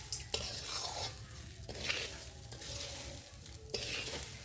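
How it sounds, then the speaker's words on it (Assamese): Rice for mutton pulao, about 1.5 kg, is stir-fried over low heat in a pot. A soft sizzle runs under repeated scraping stir strokes, several distinct pushes of the spoon, close and quiet with no talk. "অলপ অলপ জুই দি ভাজিব লাগিব"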